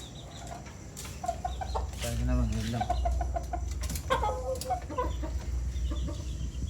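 Chickens in a backyard flock, McLean x Miner blue birds about four months old and a McLean bullstag, cluck and call repeatedly up close while someone talks over them.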